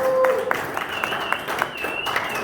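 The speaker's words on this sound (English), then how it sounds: "Give yourselves a round of applause." Audience at a comedy show clapping, a brief scattered round of applause with crisp individual claps and a few whoops, alone without speech.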